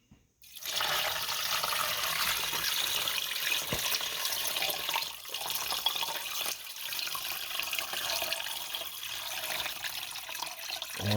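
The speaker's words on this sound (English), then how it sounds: "I'm going to pour it into our bucket here with the chicken" Brine poured from a pot into a bucket holding a whole chicken makes a steady, loud rush of liquid that runs almost continuously for about eleven seconds, with brief dips in flow.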